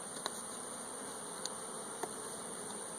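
Steady insect buzzing fills the air, a dense hum of many honey bees close by as a hive's top nucs are removed, with a few faint taps and clicks over the drone.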